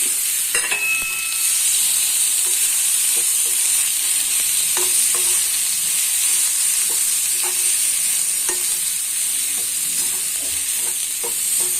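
Onions and tomato sautéing in a pan for a Kerala-style fish roast, a steady bright sizzle throughout with intermittent scraping strokes of a spatula stirring, close and fairly loud with no talking.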